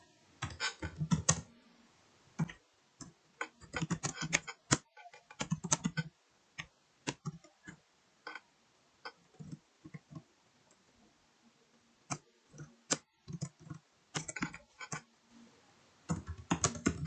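Irregular clusters of crisp keystrokes clack on a computer keyboard as commands are typed into a Cisco router or switch CLI, close and clear with brief pauses and no talking.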